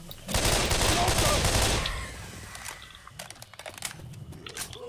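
Automatic gunfire in Left 4 Dead 2, aimed at a Boomer, comes as a loud, continuous burst of rapid shots lasting about a second and a half. Scattered single shots and clicks follow more quietly.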